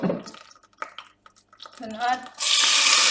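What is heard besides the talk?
onion added to hot olive oil, sizzling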